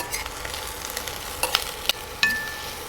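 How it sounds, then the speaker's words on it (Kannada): Bell peppers and onion frying together in a pan, a close, steady sizzle with a few crisp spatula knocks and a final ringing scrape of metal. "ಸೊ ಇದನ್ನು ಚೆನ್ನಾಗಿ ಫ್ರೈ ಮಾಡ್ಕೊಳ್ಳೋಣ."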